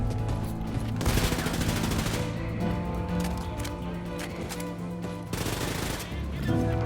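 Rapid video game gunfire rattles in dense automatic bursts nearly throughout, loud and close, with brief gaps and a renewed burst toward the end.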